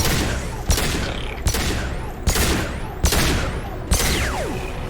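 Five sharp pistol shots ring out at steady intervals of under a second during a firefight in the video game Mass Effect 2, each crack loud and close over a dense, continuous din of combat noise.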